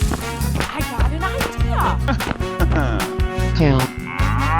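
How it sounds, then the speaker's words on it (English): A cow moos in a 3D animal slide game, with drawn-out lowing calls mixed among game music and sound effects, loud and close throughout. "Cow."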